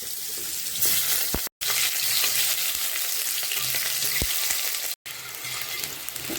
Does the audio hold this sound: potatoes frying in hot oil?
yes